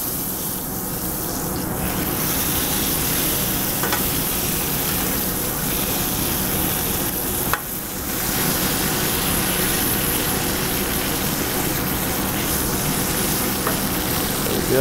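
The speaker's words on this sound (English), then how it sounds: "we'll start rolling this steak around. You wanna burn or you wanna get sear on every side." A steak sears in hot oil with a loud, dense, continuous sizzle as it is rolled to brown every side, close up and unbroken apart from one brief dip, with no talking.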